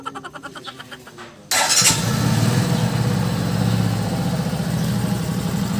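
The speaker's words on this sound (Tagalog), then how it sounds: "yung sound check ng ating makina" A Kawasaki Rouser NS125 motorcycle engine starts up after a short crank and settles into a steady, loud idle close by.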